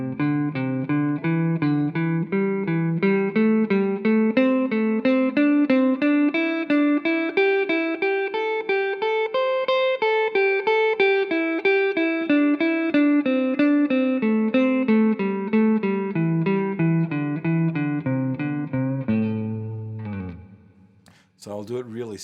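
Distorted electric guitar with effects runs a pentatonic scale in a fast, even triplet sequence, climbing and then descending in a steady stream of picked notes, ending with a few lower notes and a brief noisy pause.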